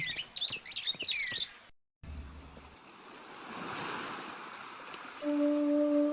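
Flowing river water gives a steady, soft rushing wash. Brief bird chirps come before it, and a low hum enters near the end, with no talking.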